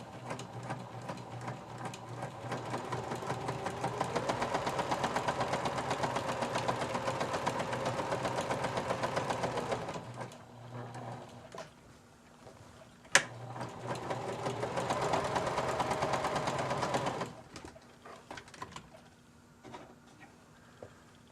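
A sewing machine runs during journal making in two long bursts of rapid, steady whirring, separated by a quiet pause with a single sharp click, fairly close.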